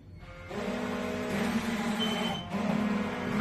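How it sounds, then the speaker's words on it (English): Alarms beeping, a sustained electronic tone with a steady pulsing beep, fairly close, cutting out briefly and resuming, with a low engine hum beneath and no talking. "We got alarms going off."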